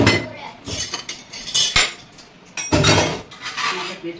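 A lid goes onto a metal wok in a home kitchen with sharp metallic clinks and clatters, several bright knocks spread across a few seconds, close and fairly loud.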